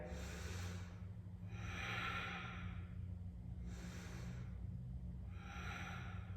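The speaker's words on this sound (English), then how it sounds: "take a few breaths here" Slow, deep breaths during a vinyasa yoga flow, alternating long inhales and exhales in a steady rhythm, close and fairly quiet over a low constant hum.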